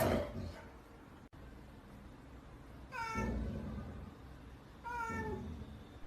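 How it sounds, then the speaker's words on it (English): A cat meows twice in rising, drawn-out calls, close and clear, over a quiet room background with a faint click between them. "MAGA Kitty says, chill"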